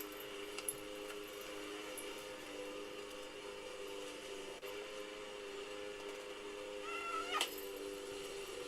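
A pet cat named Safi gives a faint, brief meow against a steady droning background hum, distant and otherwise quiet, with no talking.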